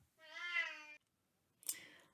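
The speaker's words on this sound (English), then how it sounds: "Oh, that's my cat." A pet cat gives one clear, close meow lasting nearly a second, followed after a pause by a short faint rustle or click; no speech.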